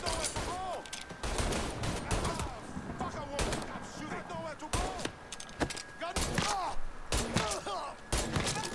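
Gunfire in the video game Mafia III: repeated sharp shots in irregular clusters through the whole stretch, over a steady bed of background game sound, with no clear speech.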